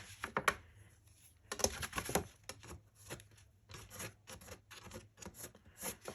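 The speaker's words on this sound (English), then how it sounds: "Just make sure everything is rubbed down." Glued paper corners on a box being rubbed down by hand, a series of soft close scratchy rubbing strokes in irregular bursts, quiet and without talk.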